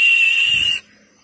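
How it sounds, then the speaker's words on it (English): A guard's whistle gives one loud, steady, shrill blast lasting almost a second before cutting off abruptly, leaving a quiet background. "The guard blew his whistle."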